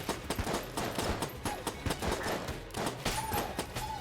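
Rapid enemy gunfire from the bullet-hell game Enter the Gungeon, a steady patter of quick sharp shots with occasional short tonal chirps, continuous and fairly loud with no talking.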